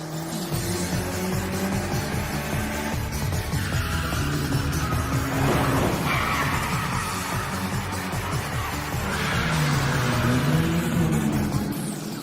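Car engine revving and roaring continuously in an anime street race, with rising and falling engine pitch, tires squealing through turns and dense music or effects layered over it; loud throughout with no speech.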